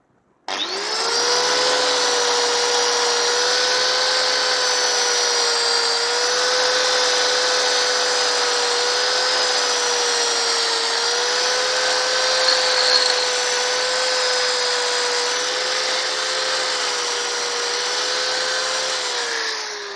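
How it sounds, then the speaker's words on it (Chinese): A power grinder polishes a rusted electric scooter part in a steady, loud whine that holds for the full stretch, starting abruptly and running alone without talk. "我这里有打磨机"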